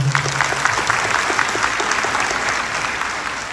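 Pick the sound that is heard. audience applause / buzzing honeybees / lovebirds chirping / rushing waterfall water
audience applause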